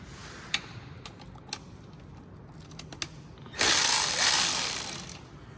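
Transmission pan bolts are loosened on a Mercedes-Benz W204. A few faint clicks come first, then a loud burst of buzzing ratchet or power-tool whir runs close for about two seconds and fades.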